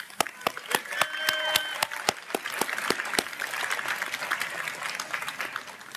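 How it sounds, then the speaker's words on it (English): Audience applause at a high school graduation celebration: a few distinct, sharp claps ring out first, then denser clapping builds and holds steadily at a moderate level, with faint voices underneath. "So big round of applause for Vincent."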